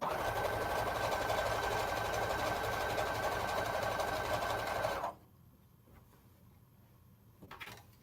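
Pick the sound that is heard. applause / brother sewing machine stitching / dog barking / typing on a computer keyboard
brother sewing machine stitching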